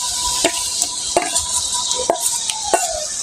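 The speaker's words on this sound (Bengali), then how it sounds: "মিশ্রণটাকে দিয়ে এখন আমি ঘেটে নেব" Spatula scraping and stirring a spice paste of green chilli, ginger, garlic and onion in a pan for a shrimp kofta curry, with a steady light sizzle and a few distinct scrapes spaced through the clip, no voices.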